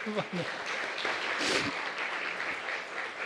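A church congregation at a Sunday morning service claps for a returning visitor, a sustained, moderately distant patter of hands with a brief voice at the start.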